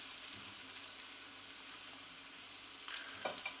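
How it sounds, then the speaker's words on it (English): A vegan soya burger fries in a pan with a constant close sizzle and crackle, and a spatula scrapes and nudges it near the end as the patty is flipped. "I'm going to attempt to flip one over without it falling apart."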